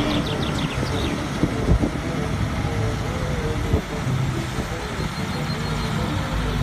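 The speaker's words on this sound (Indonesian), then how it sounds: "kalau yang ini mobil truk kontainer teman-teman" A container truck passes amid steady roadside traffic noise, a continuous low rumble with brief bumps, heard as part of the general road din rather than standing out alone.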